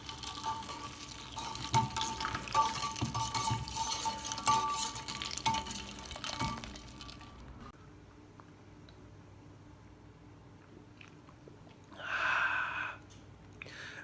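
Cheap homemade iced sweet tea is stirred in a container, with several seconds of close, busy swishing and clinking before it quiets to faint, sparse sounds.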